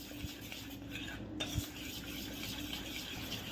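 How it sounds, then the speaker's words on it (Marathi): Mirchi vada batter being stirred in a bowl at home, a soft steady scraping and swishing with a few faint clinks of the spoon against the bowl, close and quiet with no talk. "एकसारखं याला ढवळत व्यवस्थित गाठी पूर्ण फोडून घ्यायच्या आहेत"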